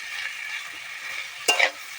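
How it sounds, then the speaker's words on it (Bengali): Potatoes and pointed gourd stir-fry in a pan with a soft, steady sizzle and one brief scrape of a spatula near the end, no talking. "এবারে আমি এখানে আলু আর পটলটাকে দিয়ে দেব। খানিকক্ষণ এটাকে আমি কষিয়ে নেব।"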